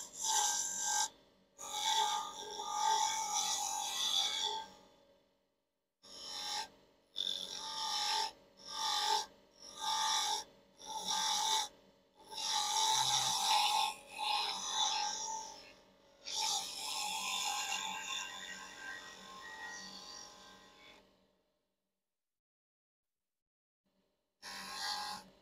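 A wood lathe turning a wooden handle for a measuring cup or spoon while a roughing gouge cuts it, heard as repeated scraping passes with abrupt stops and starts, then a long pause.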